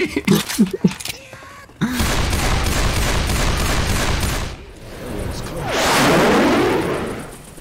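Gunshots in Left 4 Dead 2's Mardi Gras campaign, with a few short voiced sounds, then a dense, sustained rattle of close automatic fire and a swelling burst of shots toward the end.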